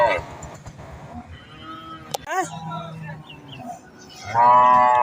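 A Holstein Friesian cow moos loudly nearby, a long drawn-out call near the end, with shorter bellows and background voices earlier.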